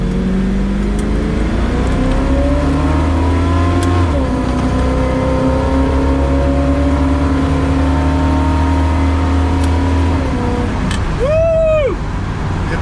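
A 1969 Chevrolet Camaro on its existing exhaust accelerates hard, its engine revving loud and close. The pitch climbs steadily through the run, then a brief squeal comes near the end.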